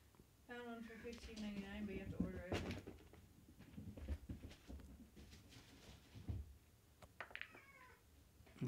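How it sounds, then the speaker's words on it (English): A house cat meows loudly and repeatedly in drawn-out, wavering cries close by, starting with a long yowl and returning later, while a person talks intermittently and light knocks and clicks sound in the room. "My cat's going haywire"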